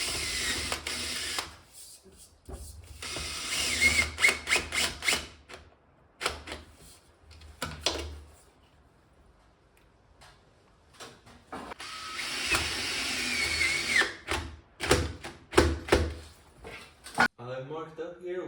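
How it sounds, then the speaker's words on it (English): Small sheet metal screws are driven into a 90-degree duct elbow on a welding fume extraction system, giving bursts of ratcheting, grinding mechanical clicks interrupted by pauses and handling clatter. "Found some small little sheet metal screws, so I'm just gonna screw them in to hold this 90 in place."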